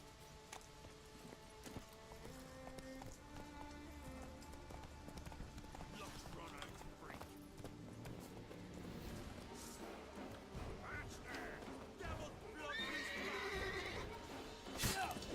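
Roach, the horse in The Witcher 3, neighs and whinnies repeatedly over steady clip-clop hoofbeats as she moves along. A game music bed plays underneath, and a louder whinny comes near the end.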